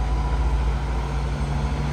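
Big rig truck engine rumbling steadily and loud on Flat Bridge in Jamaica, a deep continuous drone with no talk over it.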